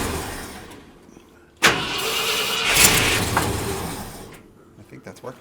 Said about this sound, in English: Go ahead, crank it.